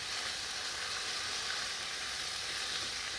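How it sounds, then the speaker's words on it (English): Chicken sizzles steadily in a pan over a campsite fire, a close, even crackling hiss with no pauses and no talking. "Nice sizzle."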